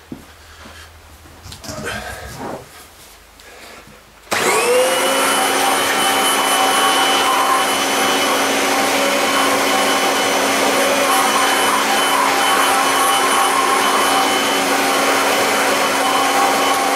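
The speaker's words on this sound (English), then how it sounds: "we'll quickly just go over this with the sentria and a duster brush, just to suck the majority of it off so it doesn't go everywhere" A Kirby Sentria vacuum cleaner fitted with a duster brush starts up after a few seconds of quiet handling and runs as a loud, steady whine and roar, sucking up dirt.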